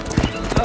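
A horse gallops in a horse race, its hooves landing in quick, close clip-clop thuds over a very short stretch, with a voice speaking over the hoofbeats.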